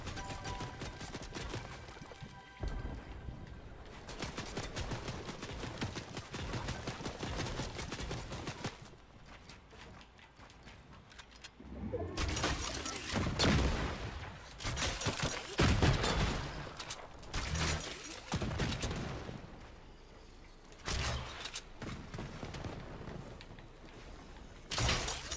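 Gunfire in Fortnite Battle Royale, heard as intermittent clusters of sharp shots and mechanical clatter spread across a long stretch, varying from sparse to dense with loud peaks midway.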